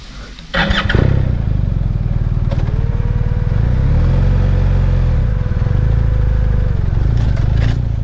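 A trail motorcycle climbs a slope with its rear wheel spinning, the engine roaring loud and close and holding a high strained pitch for several seconds before easing off, with brief clattering at the start.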